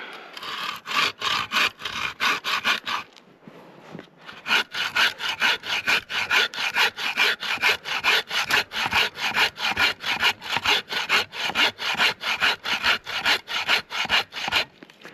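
A hand saw making the stop cut on a tree felled at a winter camp, steady rhythmic back-and-forth rasping strokes, close and loud, pausing briefly before resuming at an even pace.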